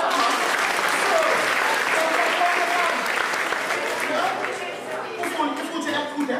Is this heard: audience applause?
yes